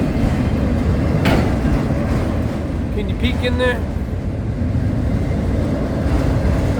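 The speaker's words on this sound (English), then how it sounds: "here comes a unit train of auto racks" A unit freight train of auto rack cars loaded with new vehicles rolls past close by, a loud continuous rumble with wheel clatter and brief squeals, while a person talks over it.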